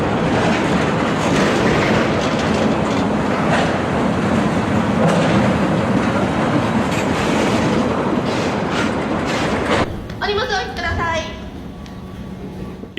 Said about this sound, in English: Seven airplane fuselages rolling through Renton on rail looks unreal